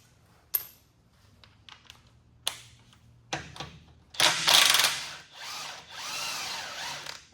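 Bolts on the sway bar bushings of a Pontiac Firebird come loose under a tool in a home garage: several sharp metallic clicks and clanks, then a burst of fast, loud ratcheting or power-tool whirring, with no talking.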